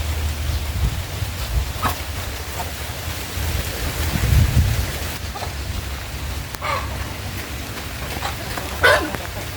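Rain falling during a storm around a farmyard where chickens are fed, a steady low wash of patter under faint scattered knocks and brief sharp ticks, continuous and fairly close throughout.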